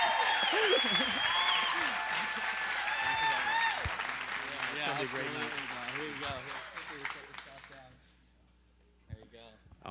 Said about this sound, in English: if you guys could cheer real loud for Cary Poarch, come on up, bro.